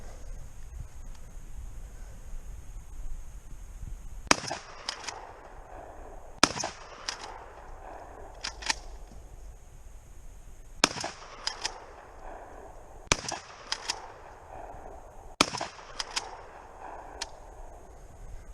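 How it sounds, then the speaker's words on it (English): Repeated 12-gauge shotgun blasts fired outdoors at a boat rigged with tannerite, about seven sharp reports in uneven bursts, several spaced seconds apart with quick doubles, loud over steady wind noise. "he's aiming for that with the 12 gauge. He's gonna shoot it as many times as he can."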